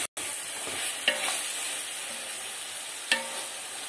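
Meat frying in a pan with green chillies and ginger, a steady broadband sizzle running throughout with a couple of brief stirring clinks, close and fairly loud, no voices.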